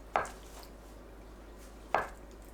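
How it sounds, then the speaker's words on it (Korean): A knife cuts through a block of tofu on a cutting board into 1 cm thick slices. Two distinct, soft thuds land about two seconds apart in a quiet kitchen. "두부를 1cm 두께로 썰어주세요."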